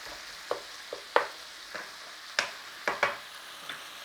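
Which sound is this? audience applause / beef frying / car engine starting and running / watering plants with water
beef frying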